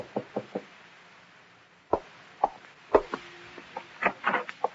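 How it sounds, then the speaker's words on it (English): Knocking on a door as a radio drama sound effect, a quick run of three raps, then a single knock, followed by a looser cluster of knocks, close and crisp against a quiet background. "there's a knock on the door"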